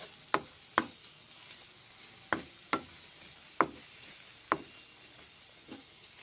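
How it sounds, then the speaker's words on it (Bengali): Maggi noodles with masala and butter being stirred in a pan, heard as a series of sharp utensil scrapes and taps against the pan, about seven strokes in an irregular rhythm with quiet gaps between them, with no voices. "ম্যাগি মশলা দিয়েছি বাটার দিয়েছি নেড়ে চেড়ে"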